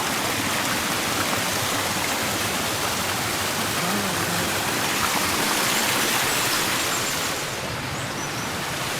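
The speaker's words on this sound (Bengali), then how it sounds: "ঝর্ণাটার একদম কাছে চলে আসছি" A waterfall stream rushes in a steady, fairly loud broadband wash of flowing water nearby on a hiking trail in Armenia, continuous with no speech.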